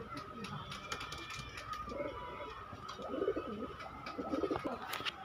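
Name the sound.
pigeons cooing at market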